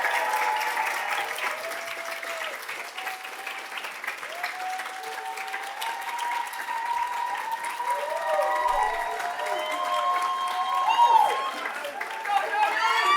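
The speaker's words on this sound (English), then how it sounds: "Let's give them a big round of applause." A crowd claps and cheers for finalists returning to the stage at a GradSlam competition, a steady wash of applause with whoops and voices over it throughout.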